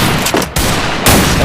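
Desert Eagle pistol gunshots in the mobile battle royale game Free Fire: loud, close blasts and sharp cracks that fill the whole clip as one continuous dense barrage, with a brief dip before it resumes.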